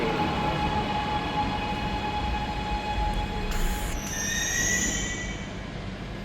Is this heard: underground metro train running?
yes